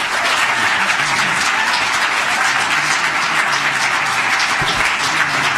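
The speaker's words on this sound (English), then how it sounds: "I truly appreciate the applause for the speakers" Sustained applause from the audience at a council meeting, a dense, steady wash of clapping that holds at full strength for several seconds with no talking over it.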